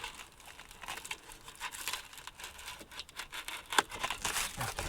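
A sharp blade slices through C3 Corvette interior insulation around a vent, giving close, scratchy crinkling and tearing sounds in uneven bursts, with one louder rip near the end.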